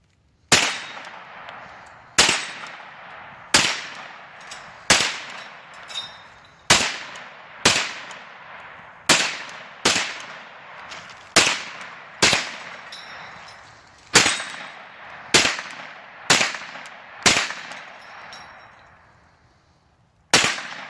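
CZ Scorpion Evo 3 S1 carbine fired outdoors at a swinging steel target, about fifteen sharp single shots spaced a second or so apart, each followed by a ringing decay.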